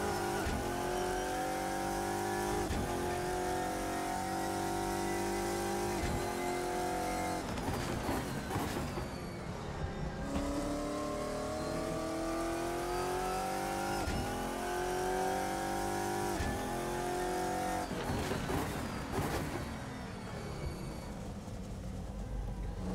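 A GT1 race car engine in Assetto Corsa at Donington Park drones loud and steady, climbing through the revs again and again with brief dips at gear changes, with no talk over it.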